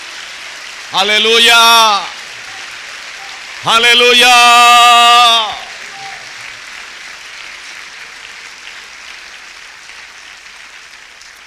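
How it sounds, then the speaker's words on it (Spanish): A church congregation applauds through a sermon as a steady wash of clapping, while two loud, drawn-out shouted exclamations from voices rise above it. "déselo fuerte al Señor ese aplauso"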